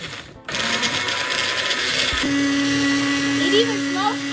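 A blender whirs up Haitian pikliz with vinegar, starting with a short rattle before settling into a steady, close, loud motor whine that holds to the end.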